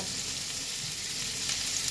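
Small unpeeled potatoes tossed with turmeric and salt fry in a pan, giving a dense, even sizzle that hisses steadily and closely throughout with no pauses.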